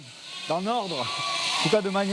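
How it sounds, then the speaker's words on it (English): Sheep bleat twice in wavering calls, close and loud, as the flock is corralled through corridors toward shearing, with a steady background hum of the shed. "The sheep must be shorn, and they are corralled through a series of corridors."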